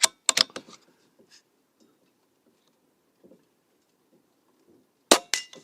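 Sharp, loud gunshots from a Buck Rail P-Rod air rifle fitted with an AR15 tactical conversion kit: a quick burst of three cracks at the start, then faint rattles, and one more loud shot near the end.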